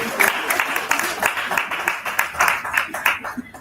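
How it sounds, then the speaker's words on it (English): A summit audience applauds in a brief burst of scattered clapping that thins out over a few seconds, with voices in the background. "Another round of applause"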